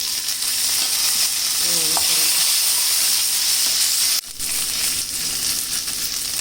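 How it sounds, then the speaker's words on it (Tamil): Small onions, ginger, garlic and dried red chillies frying in hot oil with cinnamon, cloves and fennel seeds, producing a loud, close, steady hiss with light stirring clatter that breaks off briefly near the end. "பட்டை, கிராம்பு, சோம்பு நல்லா தாளிச்சிடலாம். சின்ன வெங்காயம், இஞ்சி, பூண்டு, வரமிளகாய்,"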